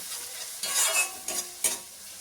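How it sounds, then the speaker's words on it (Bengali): Dry spices fried and stirred in a pan while cooking lote (Bombay duck) fish jhuri: a close, hissing sizzle punctuated by a few brief, louder scraping stirs. "এবার এটাকে ভালো করে কষাতে হবে।"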